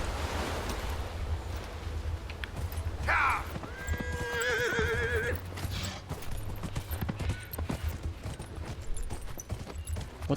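A Qunari steed in the game Dragon Age: Inquisition, with rhythmic hoof clip-clops and a loud whinny early on, over a steady wind-like ambient rush and low rumble.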